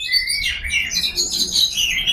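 An oriental magpie robin (kacer) sings a continuous, bright run of varied chirps and warbling whistles, close and loud, with no talking.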